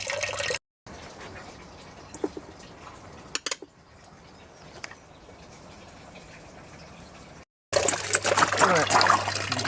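An automatic top-up valve in a greenhouse runs water in a steady trickle, with a loud close burst of flow near the end after a brief cut, under scattered talk and small knocks.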